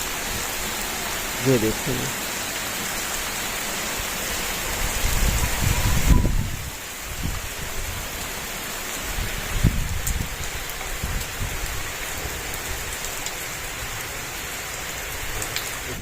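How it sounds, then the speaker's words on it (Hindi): Steady rain falls in a village on the second day of Eid as the streets begin to flood, a dense even patter with a brief voice early on. "बारिश माशाल्लाह आहिस्ता आहिस्ता तेज़ हो रही है"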